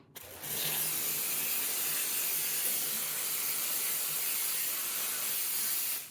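A Lelit Bianca espresso machine's steam wand bursts on with a sudden, forceful hiss that holds steady and loud, then cuts off at the very end.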